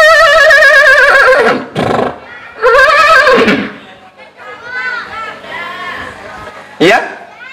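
A voice imitates a horse's whinny in a few wavering bursts, followed by a group of children chattering and laughing.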